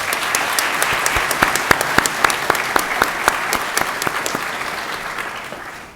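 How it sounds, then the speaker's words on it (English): A crowd applauds steadily at a university ceremony, dense clapping from many hands that stays strong for several seconds, then begins to thin and fade at the end. "give Dr. Dunning a round of applause"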